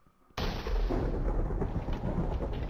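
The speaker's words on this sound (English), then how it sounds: "This thunder and lightning just needs to leave now." Thunder in a Minecraft thunderstorm breaks suddenly after a moment of near quiet, then rolls on as a loud, sustained rumble with no voices.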